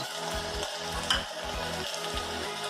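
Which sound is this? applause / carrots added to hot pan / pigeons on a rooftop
carrots added to hot pan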